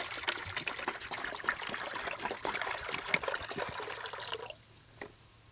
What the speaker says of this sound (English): all I'm going to do is put 2 quarts of water, which is a half a gallon, in my yellow bucket